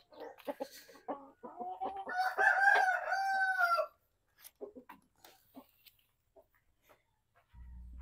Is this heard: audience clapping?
no